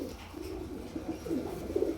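A female Indian Laldom pigeon of a pure bloodline coos close by, with low throaty rolling notes that swell in a few short pulses toward the end over a faint background rumble.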